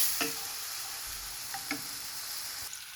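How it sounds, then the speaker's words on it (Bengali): Whole spices, ground spices and garlic powder sautéing in a pan give a soft, steady sizzling hiss with a few faint ticks and clicks, quiet and without talk. "এই যে গুঁড়া মশলা দিলাইছি আর এখন কষাইমু।"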